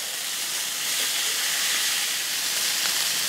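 Ribeye steaks searing in a hot cast iron pan, a steady close broadband sizzle and hiss that holds without a break.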